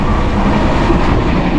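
The Kumbh Express races along at high speed, heard from inside an AC economy coach as a loud, dense, unbroken rumble of wheels and rails.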